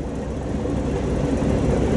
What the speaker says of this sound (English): Man, this train is just giving her.